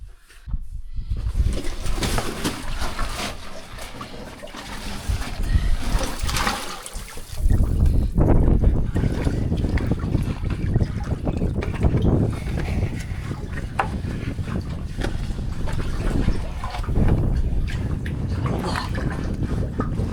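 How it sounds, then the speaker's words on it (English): Continuous roaring rush of wind whipping through a tight cave passage close by, growing louder midway and staying strong, mixed with faint water trickling. "listen to that wind whipping through this tight space"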